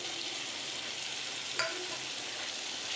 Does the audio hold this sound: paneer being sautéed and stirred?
yes